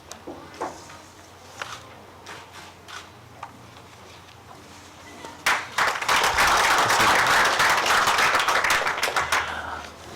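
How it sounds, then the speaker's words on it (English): A graduation ceremony audience breaks into loud, sustained clapping about halfway through, following quieter room sounds and a few scattered claps. "let's have one more loud round of applause for all of our graduates today"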